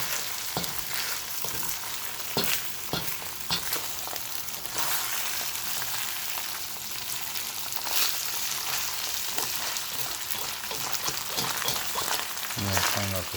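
Boiled rice with onions frying in a pan for Thai pepper fried wild rice, a steady broadband sizzle with scattered stirring clicks and scrapes throughout, close and moderately loud, no talking.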